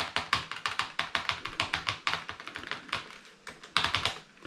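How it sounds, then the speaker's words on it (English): Fingers type quickly on a retro laptop keyboard with a tactile key strike and back plate, a dense run of crisp close clicks in uneven bursts with short pauses. "It's hard typing at this angle. This one feels awesome."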